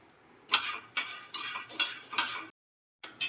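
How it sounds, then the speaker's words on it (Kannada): Peanuts being fried in a pan at home, heard as a series of sharp stirring scrapes and clinks of a utensil against the pan in a regular rhythm, a brief pause, then more stirring. "ಕಡಲೆ ಬೀಜ ಫ್ರೈ ಆಯಿತು"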